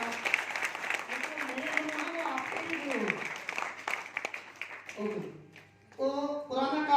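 An audience at a business leadership talk gives steady applause that runs for several seconds under a speaking voice, then fades as talk takes over.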